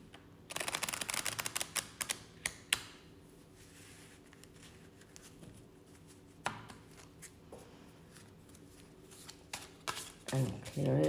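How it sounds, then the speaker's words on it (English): A tarot card deck being shuffled by hand, with quick riffling flutters and soft slaps of cards in short bursts, close and moderately quiet, with pauses between bursts. "shuffle the deck once more."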